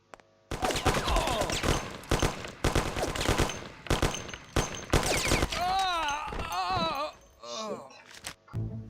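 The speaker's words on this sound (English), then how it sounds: "Start shooting actually when I click." Gunfire from the game Mafia erupts in repeated loud bursts of rapid shots at close range, broken by short pauses, with whistling, wailing effects toward the end.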